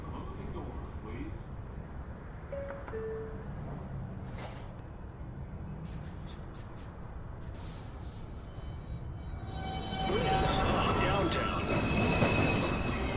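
A Manhattan-bound NYC Subway 2 train at 207th Street rolls along with a continuous rumble, and its wheels break into loud, shrill squealing near the end, while a short automated announcement voice speaks over it.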